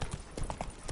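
Rapid hoofbeats as Roach the horse gallops in The Witcher 3, a quick rhythmic clip-clop of thuds up close, with faint voice sounds underneath.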